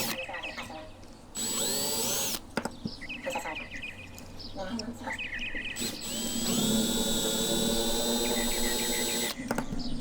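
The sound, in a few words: drill bit drilling die-cast metal pillar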